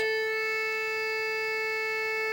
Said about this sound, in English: That's the sound of the two oscillators.